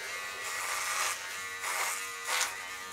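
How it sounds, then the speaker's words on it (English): A Dollar Shave Club Double Header electric trimmer buzzes steadily at close range while cutting hair, its pitch swelling and dipping in a few brief surges as it passes over the hair. "It's doing a very good job for the size of trimmer that it is so far."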